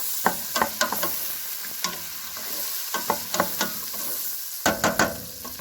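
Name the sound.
carrots and onions sautéing for a mirepoix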